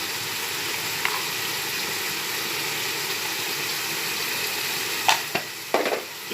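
Pasta is dropped into a pot of boiling water with a spoonful of oil and half a spoon of salt for vegetable pasta. A steady, soft bubbling hiss runs throughout, broken near the end by a few sharp clinks and splashes.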